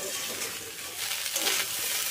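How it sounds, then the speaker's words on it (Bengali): Bengali-style fried rice (vat vaja), seasoned with a little sugar and ground black pepper, sizzles and hisses in a pan as it is stirred and tossed. The frying noise is soft and continuous, with no voices. "এবার একটু ভালো করে মিশিয়ে নিলেই তৈরি হয়ে যাবে আমাদের টেস্টি টেস্টি ভাত ভাজা"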